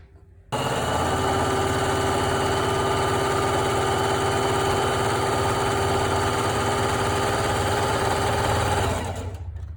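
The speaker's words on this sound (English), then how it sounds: "we need to zigzag these edges. So we're gonna go ahead and zigzag the side that is 10 inches" An electric sewing machine runs a zigzag stitch along the edges of a fabric face mask, starting abruptly and holding a loud, steady, rapid mechanical whir for several seconds before winding down at the end.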